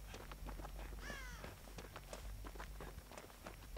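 A single crow caw rings out once amid rapid footsteps and running sounds in the game Dead by Daylight, fairly quiet overall.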